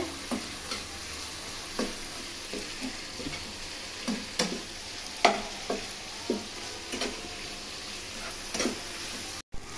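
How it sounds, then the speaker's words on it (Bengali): River fish curry with winter beans and tomato being stirred in a pan, a soft continuous sizzle broken by regular spoon taps and scrapes about once a second. "দেখছো কিভাবে নাড়াচাড়া করছে"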